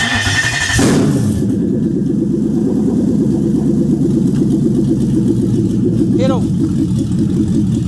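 A Toyota 3UZ V8 fitted in a jetboat cranks briefly, then catches and settles into a steady, loud, close idle with a rhythmic low throb. A voice is heard near the start.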